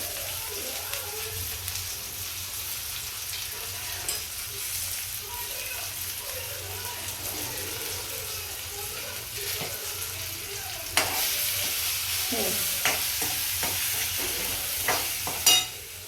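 Vegetable curry in a pan, seasoned with salt, chili powder and crushed peanuts, sizzles and frys steadily while being stirred, with scraping clatters growing more frequent toward the end.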